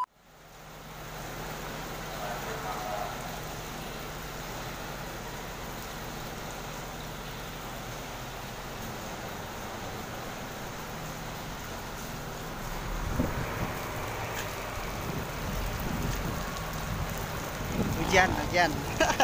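A police water cannon truck sprays disinfectant outdoors, a steady rushing hiss of water that swells louder and rougher toward the end, heard without speech.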